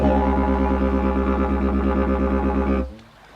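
A didgeridoo played to mimic a little joey hopping gives a loud, buzzing drone pulsed in quick, steady hops, heard alone and cutting off abruptly near the end.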